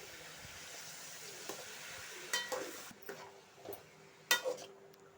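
Snake gourd poriyal being stirred in a pan, a faint sizzle under a few soft spoon scrapes and taps against the metal, sparse and close, no speech.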